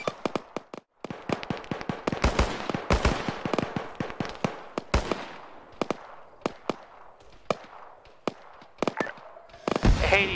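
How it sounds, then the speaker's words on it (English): A heavy machine gun firing out in the distance in the Spirit Campaign video game, with sharp cracks in irregular bursts and single shots that keep coming across the whole stretch, some louder and closer than others. "we have some kind of heavy machine gun out there too"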